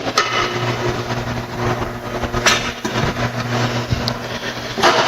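Tire changer machine spinning a tire, a steady mechanical motor drone with a low hum and occasional clanks, loud and close, no talking.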